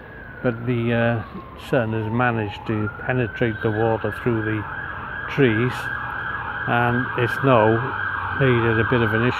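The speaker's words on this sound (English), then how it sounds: "an ambulance going past in the background" An ambulance siren passes through city traffic in the background, its wailing tone sweeping steadily and moderately distant, running under continuous close-up talking.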